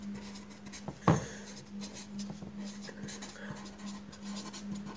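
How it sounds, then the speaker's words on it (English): Chalk or pen writing on a board during a maths lesson on proportion, light scratchy strokes and taps spread over the stretch, fairly quiet, with a steady hum behind. "So I will write here capital of Shweta"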